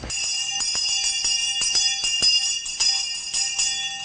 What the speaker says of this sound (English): our correctional officers still use an old-fashioned teacher's bell to call for the count